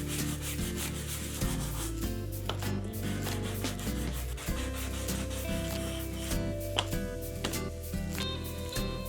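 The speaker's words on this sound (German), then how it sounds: "Noch ein bisschen schleifen." Hand sanding of a wooden part being made to repair a cabinet, a steady rubbing rasp of abrasive on wood that carries on continuously at a close, even level with small shifts in rhythm.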